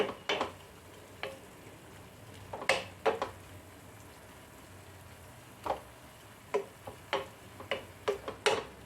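Intermittent scraping and clicking of a spoon stirring sticky grated coconut and jaggery in a pan, irregular strokes spaced over a quiet background, no talking.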